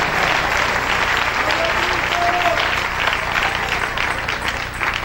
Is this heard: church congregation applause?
yes